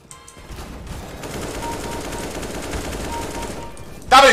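Sustained automatic gunfire from the Counter-Strike video game, a dense rattling burst of shots lasting several seconds, followed by a sharp louder report at the end.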